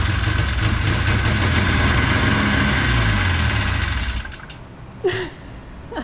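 A 1984 Yamaha Enticer 340 snowmobile engine runs steadily and loud up close with a rough, buzzing idle, then drops off sharply partway through, leaving quiet with a brief knock afterward.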